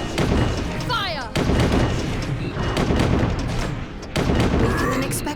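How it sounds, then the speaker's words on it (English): Repeated gunfire volleys from soldiers in The DioField Chronicle, a dense barrage of loud cracks and booms layered over battle noise, with game voices speaking between the shots. "Soldiers ready, fire! Ready, fire!"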